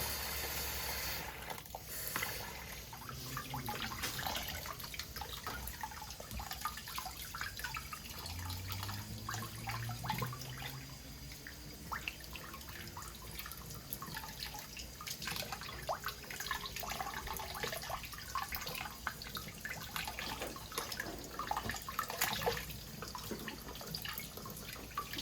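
Running water splashes continuously as a hassa fish is rinsed clean in a sink or basin, a steady close trickle and slosh with faint dripping throughout and no talking.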